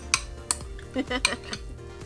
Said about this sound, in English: we're just going to add this to a serving bowl